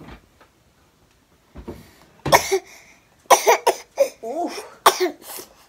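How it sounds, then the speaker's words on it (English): A child gives several sharp, bursting coughs in quick succession after a quiet start, ending with a short, small sneeze. "Big coughs. And a little sneeze there at the end."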